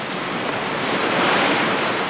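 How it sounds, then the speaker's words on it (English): Choppy artificial sea churned by a leisure centre wave maker running flat out, a steady broadband wash of rough water and surf with some wind-like roar, constant and fairly loud throughout. "the wave maker is working flat out,"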